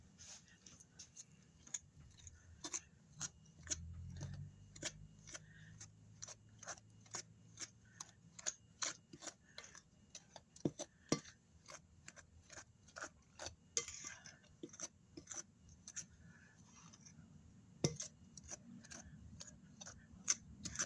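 Shortening mixed with a fork for empanada dough, with quick, light, regular tapping strokes against the bowl. They are fairly faint and close, with a brief low murmur partway through.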